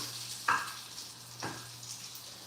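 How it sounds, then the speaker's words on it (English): Bacon fries in a pan with a soft, steady sizzle, broken by two brief louder crackles or stirring clatters near the start and middle. "My bacon didn't start frying too goddamn on quick"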